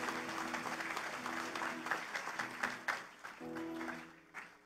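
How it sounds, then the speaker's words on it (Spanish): A crowd claps steadily in a large room at a seminary's 60th anniversary church celebration, the applause sustained and moderately loud, with a low tonal drone and some murmuring beneath. "Le damos un fuerte aplauso."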